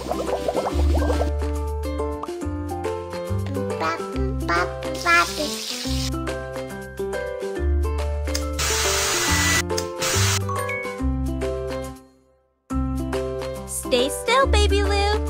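Soap and water spray sound effects for washing a baby panda in a pet care video game, short hissing bursts layered over bouncy looping game music.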